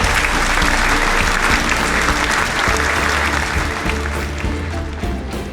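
Sustained, steady applause from an event audience for the Maglumi instrument, a dense wash of many hands clapping at even loudness throughout, tapering slightly at the end.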